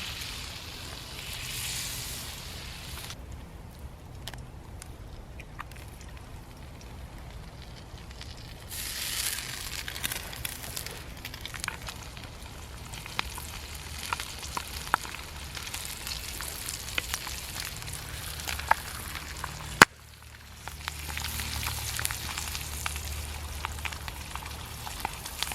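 Food sizzles and spits steadily in a pan over a campfire, a continuous crackling fry with scattered pops, close and fairly quiet.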